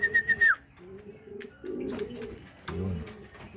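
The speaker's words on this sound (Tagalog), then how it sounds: "Kakarating lang mga kalapatids galing karera." Racing pigeons just back from a race, close, soft throaty coos in short rounded phrases after a brief high whistle at the start, with light rustling between calls.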